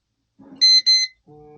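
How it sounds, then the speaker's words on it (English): Two sharp, high electronic beeps sound in quick succession from a Rothenberger mini safe's keypad, followed by a lower tone, close and clear against silence. "there's a red button at the back. It will beep twice."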